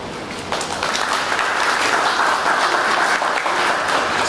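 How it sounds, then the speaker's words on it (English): Steady, dense applause from an audience at a Zambian government address to the private sector, swelling after a moment and holding at a full, even level throughout. "I think we need to give you a round of applause"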